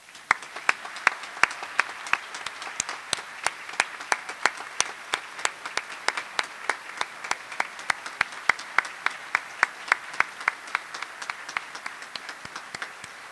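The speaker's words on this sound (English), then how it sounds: "I think it will be most appropriate for our graduates to show their gratitude by thanking you with a round of applause" Graduation audience applauding, a dense round of clapping from many hands with sharp individual claps standing out, steady throughout and heard alone without talk.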